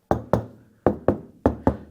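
Six firm knocks on an insulated car door, dull and solid, in uneven pairs with short pauses between.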